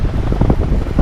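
Wind buffets the microphone in gusty, rumbling pulses outdoors in London, loud and close for about a second with no other sounds.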